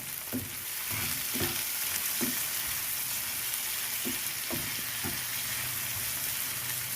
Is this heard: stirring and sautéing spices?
yes